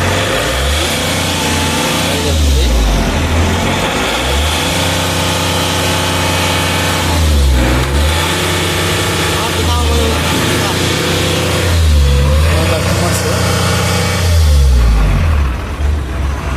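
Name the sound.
Ashok Leyland Dost pickup engine starting and revving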